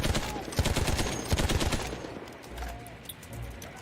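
Rapid automatic gunfire in Battlefield 1, a dense burst of close shots for about two seconds, then scattered distant shots and battlefield noise.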